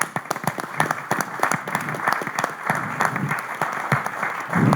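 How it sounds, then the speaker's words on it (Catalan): An audience at a talk on Barcelona's cycling history applauds in a dense, close burst of clapping that carries on steadily for several seconds, with a voice faintly underneath near the end. "Dediquem un aplaudiment"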